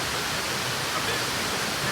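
Waterfall on the Thiba River in Kirinyaga, a steady broadband roar of falling water pouring into a pool, constant and close with no breaks or voices.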